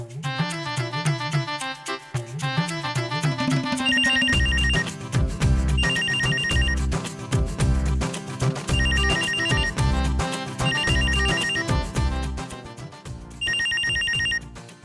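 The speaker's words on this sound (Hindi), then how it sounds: "कॉल आ गया भाई। इस दौर में भी लैंडलाइन पे फोन करते हैं" A landline telephone rings with a bright, repeating electronic melody, with each phrase cycling at a steady rhythm over a thumping beat, loud and with no talking.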